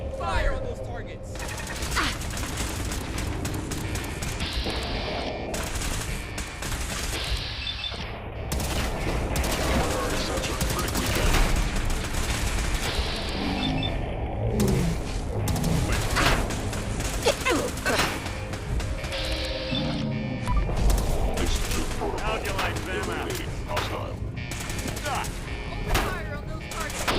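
Sustained gunfire from a Fallout 4 battle with the Enclave, dense volleys of shots and bursts running continuously and loud throughout, mixed with game effects and occasional voices.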